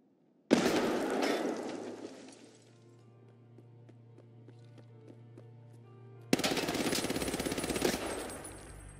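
Gunfire in the Escape from Tarkov video game, with a loud sustained burst, a quieter ringing lull, then another long, dense rattling burst, no speech.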